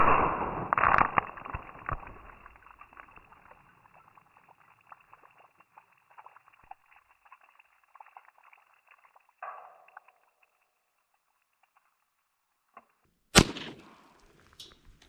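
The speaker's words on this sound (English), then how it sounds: "we're shooting that last one there with the green lid" An early 1900s Winchester Model 92 lever-action rifle fires one sharp, loud report at the start, followed by quieter clicks and handling noises, then another sharp crack near the end.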